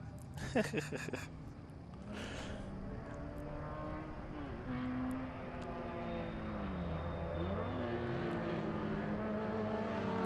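Vintage race car at Sebring on its last lap, engine note rising and falling through gear changes as it passes, steady and moderately distant, with a brief clatter at the start.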